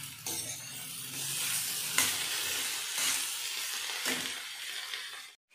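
Chopped green tomatoes sauté in a pan over medium heat, giving a soft continuous sizzle and hiss broken by a few louder stirring scrapes spaced a second or two apart.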